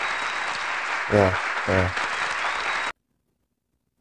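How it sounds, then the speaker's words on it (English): A small group of young men claps and cheers through a short round of applause, broadband and steady, with two brief voiced shouts breaking in before it cuts off abruptly to silence. "Round of applause for all of you boys."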